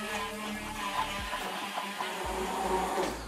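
A blender mixes eggs, salt and spinach for homemade wraps. A loud, continuous motor whir runs the whole time, with faint rattling in the jar.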